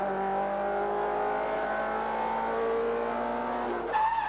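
A race car in the 1988 Uniroyal Production Car Championship, round 3, drones steadily and loud on track near the pit wall, its engine note holding then climbing sharply at the end.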